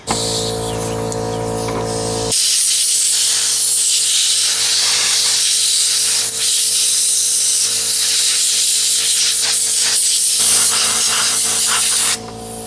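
Compressed air blasting clean a 6 hp Evinrude outboard carburetor, a loud, close, sustained hissing jet running about ten seconds, with quieter background before it starts and a cutoff near the end.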